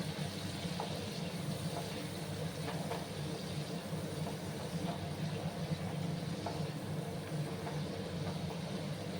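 Tomatoes frying in a pan for a vegetarian drumstick (sojne data) curry, a steady dense sizzle and hiss with a low rumbling hum underneath, continuous and fairly loud throughout with no talking.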